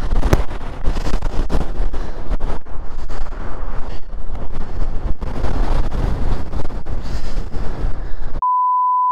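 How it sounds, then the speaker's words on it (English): Strong wind in Patagonia buffets the microphone with loud, continuous gusty roaring and rumbling for several seconds, ending abruptly in a steady electronic beep tone. "a lot of wind, hey?"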